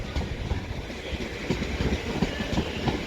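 An Avanti West Coast Evero train rolls into platform 6 at Crewe station, wheels clattering over rail joints in a steady rhythmic clickety-clack under a broad rumble, fairly close and continuous.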